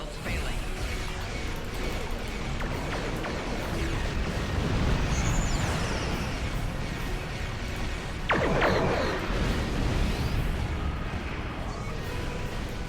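Energy torpedo explosions hitting starship shields in Star Trek Online, a dense, continuous roar of booming blasts and rumbling impacts with a few sharper sweeping strikes, loud and sustained throughout.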